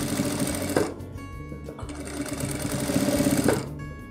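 A sewing machine stitches fabric in quick rapid runs, close and clear, pausing briefly between bursts of stitching.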